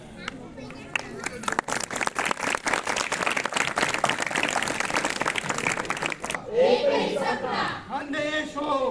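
An outdoor audience at a street play claps hard and fast for several seconds, then the applause stops and voices take over, talking and calling out loudly.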